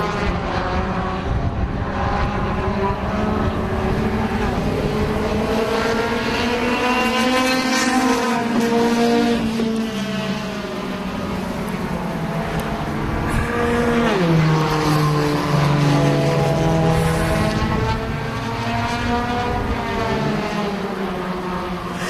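Several race cars in a playoff championship final roar around the track together, their engines loud and continuous with rising and falling harmonic pitches as they jostle for position, with no voices heard.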